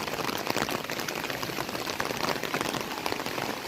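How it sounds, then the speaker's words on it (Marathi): Heavy monsoon rain pours down in Konkan, a dense, steady hiss of falling water with constant patter and no pause, moderately loud throughout. "अजूनही पाऊस पडतोय मुसळधार"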